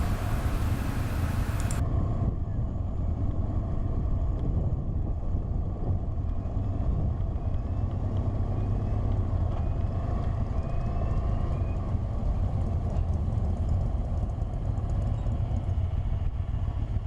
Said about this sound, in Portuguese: O ferry já acabou de atravessar, agora a gente está saindo já do outro lado